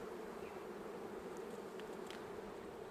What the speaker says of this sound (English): the bees are really building up, so that is wonderful